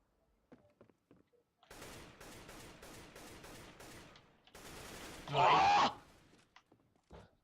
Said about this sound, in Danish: jeg står bare og skyder, mand